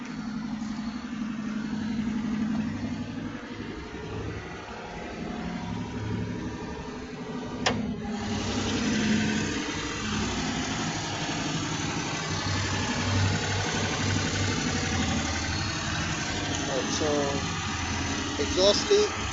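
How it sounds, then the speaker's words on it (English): Engine of a cheap Toyota Avalon restoration project car with a possible exhaust leak idles in a steady, low, continuous hum, with a brief knock partway through, while someone talks over it. "I think the engine itself sounds okay."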